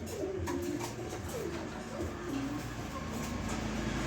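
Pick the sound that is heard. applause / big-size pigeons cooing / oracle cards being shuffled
big-size pigeons cooing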